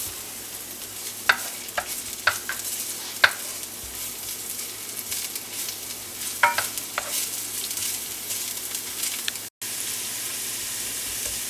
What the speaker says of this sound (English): And I'm going to cook my onion until it's translucent.